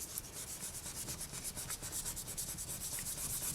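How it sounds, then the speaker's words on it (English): Steady close rubbing of a tool over polymer clay, pressing mod cane earring pieces together into a double-sided earring; a soft, continuous scraping texture with no talk. "I'll burnish this down a little more so that it's about the same thickness."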